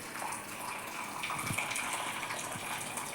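Water from boiled ridge gourd is drained off in a kitchen, giving a steady, soft pouring and splashing that runs continuously and fairly faintly throughout, with no voices.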